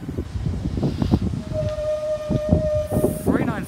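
A Class 395 electric train sits at Dover Priory station, emitting a steady high electrical whine over rumbling station noise, while someone talks nearby.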